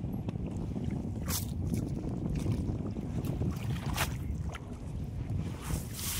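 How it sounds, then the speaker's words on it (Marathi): Strong wind roars steadily into the microphone by the water during net fishing, a continuous low rumble with a few sharper gusts cutting through. "वारं बघा कसं सुटलं"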